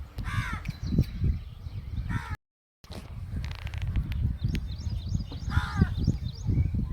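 Several crows caw repeatedly nearby, harsh calls in short bursts over outdoor rustling and footsteps, with a brief dropout in the middle.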